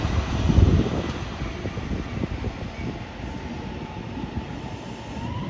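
A JR Tokaido Line down train pulls out of Toyohashi station, a steady broad rumble of wheels and motors with wind noise, loudest at the start and then holding an even roar throughout.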